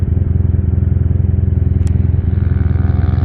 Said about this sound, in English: Little Grom ripping it.